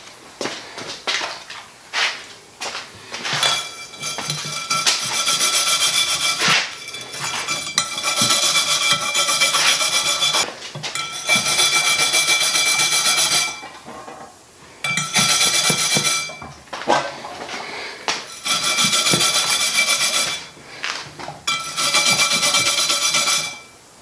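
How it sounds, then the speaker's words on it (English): Wire brush scrubbing rust and dirt from a tire rim while fixing a leaking bead, a harsh rasping scrape repeated in long strokes with brief pauses between bursts, close and loud. "I'll grab the wire brush and go over it with the wire brush"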